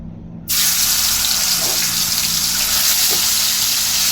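Rohu fish pieces go into hot oil in a pan, and a sudden loud, steady sizzle starts at once. It stays close and constant to the end.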